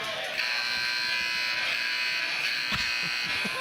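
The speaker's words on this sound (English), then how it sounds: "There's too many buzzers going off." Several electronic buzzers sound together in a continuous, loud droning tone with no pauses, over faint background noise, at a basketball game.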